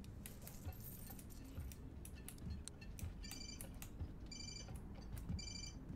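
Keys jangle in Life is Strange, a faint, quiet metallic clinking and tinkling in a few short shimmering bursts over soft background game ambience. Nobody speaks.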